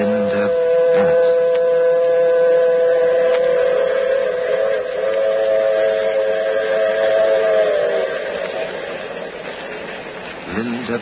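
A steam train whistle sound effect in an old-time radio detective drama gives a long, steady, wailing tone for about eight seconds before fading, with a softer rumble underneath.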